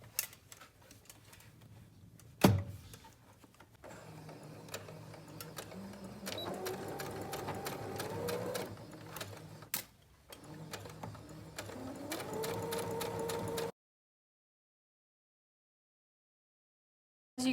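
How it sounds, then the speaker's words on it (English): A sewing machine stitches a quarter-inch seam on a fabric medical mask, running in bursts of fast rhythmic whirring with short pauses and a sharp clack, then falling silent near the end. "And sew this side at 1/4 of an inch seam allowance."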